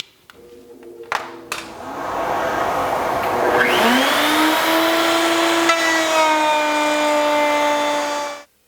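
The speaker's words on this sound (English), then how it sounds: "the first thing to do is cut the dado in these" A power saw spins up and cuts a dado in wood for a miter sled, a loud, sustained whine holding steady for several seconds before stopping abruptly, preceded by a few light knocks.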